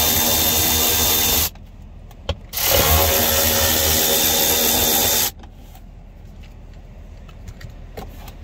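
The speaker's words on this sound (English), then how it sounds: "we got 2 7-mm bolts right up in here. Gonna go ahead and take these out." A power driver whirs loudly while removing 7 mm bolts behind a speaker cover inside a Ford F-150/F-250 truck. It runs in two long bursts separated by a pause, with rattles and clicks between them.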